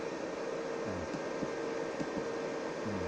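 Steady electrical hum from a wind generator's charge controller and inverter as it dumps surplus energy into a resistor, a continuous tonal drone with faint fan-like noise and soft low thumps throughout.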